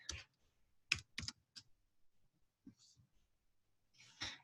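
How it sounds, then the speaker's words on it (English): Computer keys click in short, uneven bursts of a few strokes each, faint and close in a quiet room, with soft breathy sounds between. "so I'm just typing the port"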